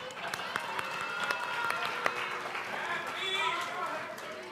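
Audience applause for three mayoral candidates at a Yogyakarta city election debate, a steady wash of clapping from a hall crowd at moderate distance.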